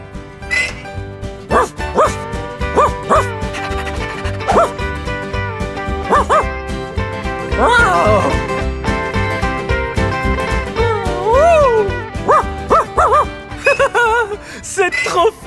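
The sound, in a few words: dogs barking in a barn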